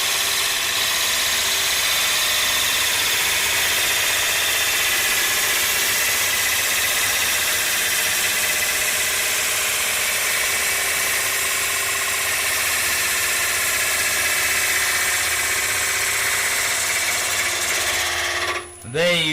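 A chunk of wood being removed on a lathe with a turning tool during an ogee bowl turn, a loud, steady, continuous whirring scrape that holds unbroken and then cuts off near the end.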